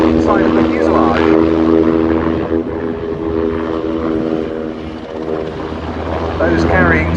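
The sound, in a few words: military aircraft flying at RAF air show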